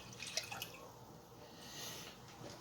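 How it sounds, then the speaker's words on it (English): About two cups of filtered water go into a pan while breakfast is being made, a soft, quiet, steady wash of liquid with a few faint drips and splashes. "So I got approximately about 2 cups of water, filtered water. I'm going to go ahead and put that into the pan"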